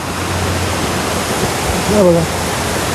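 Hot spring water pours steadily into a bathing pool at a historic palace site, a constant broadband rush filling the scene, with someone briefly speaking over it.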